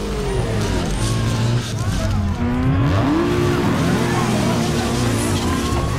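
Mitsubishi Eclipse race car engine in Need for Speed Underground 2 revs and shifts steadily amid other game car sounds and tyre noise, loud and continuous, with a voice talking over it.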